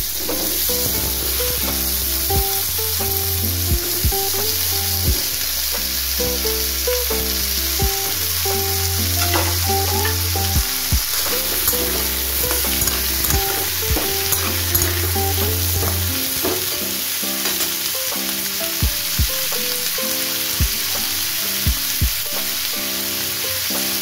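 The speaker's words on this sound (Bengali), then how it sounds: "তার মধ্যে আমি আলুটা আর বেগুনটা দিয়ে দিলাম। আলু বেগুনটা ভালো করে ভেজে নিতে হবে।" Potatoes and eggplant fry in oil with five-spice, a loud close sizzle running throughout, broken by repeated stirring and scraping strokes and low clattering thumps against the pan.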